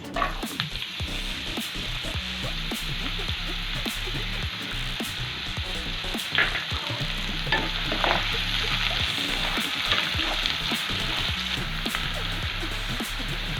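Cut beans frying in hot oil in a kadai while preparing veg momos, a steady close sizzle and crackle with occasional stirring scrapes, continuous and fairly loud with no talking.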